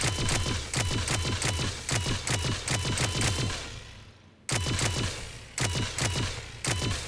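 Geth Plasma SMG from Mass Effect 3 firing on full auto in long bursts of rapid, evenly spaced shots, a brief pause around the middle, then renewed fire; loud and close with no voices.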